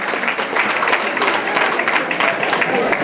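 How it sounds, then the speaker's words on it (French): A crowd at a Paris tribute gathering claps loudly and continuously, a dense sustained wash of many hands filling the room. "Je voudrais que vous l'applaudissiez très fort."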